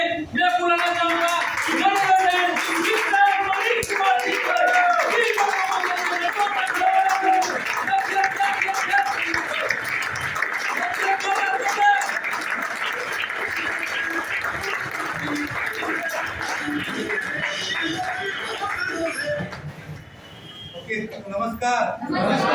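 A large audience at a company business meeting bursts into loud, sustained applause, with dense continuous clapping and crowd noise going on for about twenty seconds before fading slightly.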